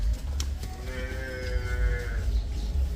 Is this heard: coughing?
no